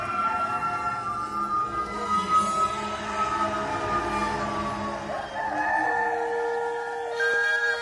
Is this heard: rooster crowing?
yes